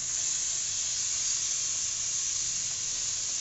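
Tomatoes added to browned onions in a hot pan, giving a steady, loud hiss of sizzling with no talk.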